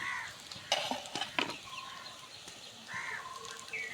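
Whole garlic cloves and green chilies frying in hot oil in a pan, a soft steady sizzle with scattered clinks and stirring scrapes, and faint chirping birds in the background.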